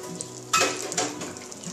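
Brown sugar stirred into melted butter in a pan, giving a soft sizzle with gritty scraping and a clink of the utensil against the pan, close by and unvoiced.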